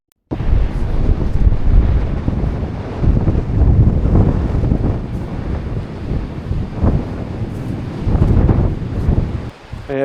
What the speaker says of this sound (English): the wind is totally picked up